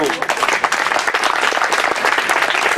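An audience breaks into loud, sustained applause, a thick wash of close clapping with a few voices underneath.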